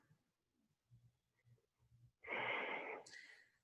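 Slow breathing heard close up: a few faint, soft breaths come first, then one long, louder airy exhale with a slight wheezy edge, alone in a quiet room.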